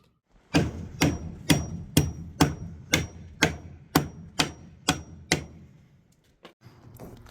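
Wooden blocking is hammered into a patio roof frame with about ten evenly spaced, ringing blows. A couple of lighter taps follow after a pause, close up and with no voices.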